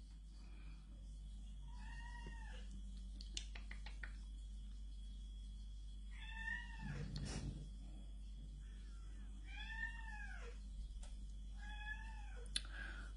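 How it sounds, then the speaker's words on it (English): A house cat meowing in a quiet indoor room, four distinct drawn-out meows spaced a few seconds apart, fairly near, with a faint steady hum underneath. "Don't know what's the matter with the cat."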